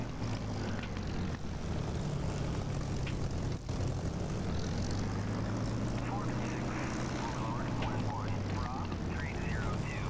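An aircraft engine drones loudly and steadily during takeoff in the DCS flight simulator game, a constant propeller roar running for ten seconds with a faint pitch shift midway.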